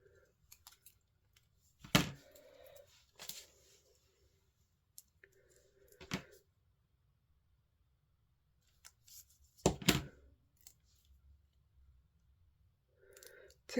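Scissors cutting card for a handmade men's card, a few sharp separated snips and clicks with quiet gaps between them, close and alone.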